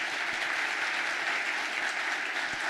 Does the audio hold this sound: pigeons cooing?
no